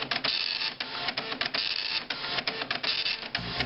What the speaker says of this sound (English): The printer.